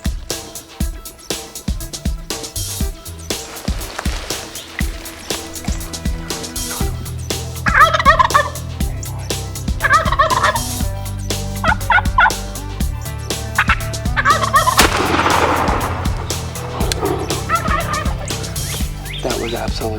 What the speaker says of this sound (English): Lots of gobbling.